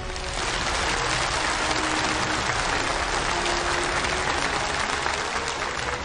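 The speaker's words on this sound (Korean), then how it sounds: "여러분 우리 뜨거운 축하의 박수를 보내줍시다" Loud, sustained applause from a large audience at a May Day celebration stage show, honoring the capital's construction workers, a dense unbroken wash of clapping that lasts the whole stretch with no talking.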